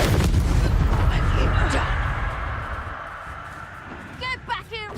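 Heavy explosive blast from the Confringo spell in Hogwarts Legacy, a loud rumbling burst at the start that slowly fades, with a voice talking over it.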